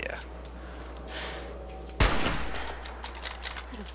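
A single sharp burst of gunfire in the video game Fallout 4 strikes loudly and close, then fades into a short rumbling tail, with some faint background game noise before and after.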